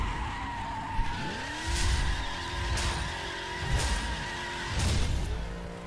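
A Koenigsegg Agera R hypercar of 1157 horsepower races in The Crew, its engine droning close with repeated tire squeals and skids as it corners, revs rising and falling between slides.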